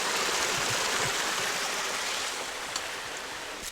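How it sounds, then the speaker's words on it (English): A waterfall and stream pour into a bush pool along the Gibb River Road, a steady, full rushing roar of water, close and unbroken, with no voices. "come to this beautiful pool and waterfall over here"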